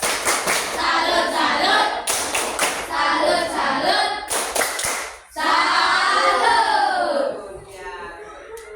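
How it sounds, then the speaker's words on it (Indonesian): A class of children claps hands in a cheer routine, bursts of clapping broken up by children's voices chanting in unison, loud and close, with a short pause before a final chant. "Ayo tepuk tangan dulu."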